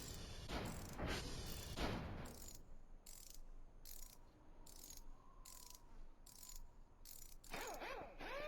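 A wrench ratchets in the video game VOTV, with a string of sharp, evenly spaced clicks in quick bursts, close and clear against a quiet mechanical background with no talk.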